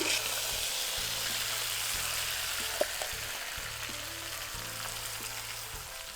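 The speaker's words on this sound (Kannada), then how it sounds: "ಈಗ ಎಣ್ಣೆಯಾಗ ಎಣ್ಣೆ ಬಿಡೋ ತಕ್ಕ ಫ್ರೈ ಮಾಡ್ಕೋಬೇಕು" Ground masala for Kolhapuri-style misal frying in hot oil over a medium flame, a steady close sizzle with faint stirring scrapes.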